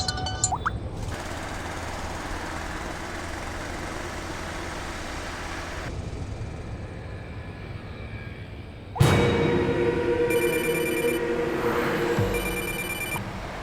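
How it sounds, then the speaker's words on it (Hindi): A telephone rings over steady vehicle rumble, a continuous electronic ring that persists against the engine noise, with a louder burst of road noise partway through. "फोन अटेंड करो।"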